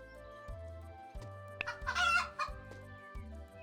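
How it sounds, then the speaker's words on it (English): Chickens in the Cropia farming video game cluck in short repeated bursts, with a brief louder squawk in the middle, over steady game background music. "And they say cluck."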